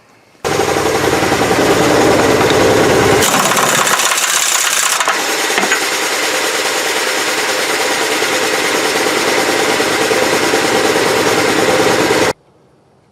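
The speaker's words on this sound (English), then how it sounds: "Compressor up." An air compressor runs loud and steady for about twelve seconds during a hydraulic outrigger repack, with a brief change in its drone partway through before it cuts off.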